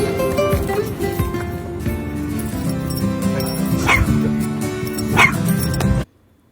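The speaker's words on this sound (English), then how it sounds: "They're going to be barking at him." Several small dogs bark and yip in bursts, with a few whimpers mixed in, fairly close and loud, continuing in an uneven rhythm before stopping abruptly.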